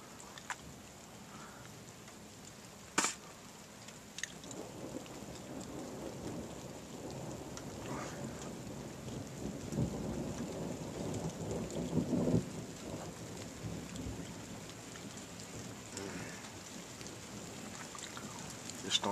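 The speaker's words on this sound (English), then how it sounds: "Storm's gonna be nasty." A thunderstorm with steady rain hissing on surfaces while thunder rolls low and distant, one sharp crack early on, the whole scene faint and continuous.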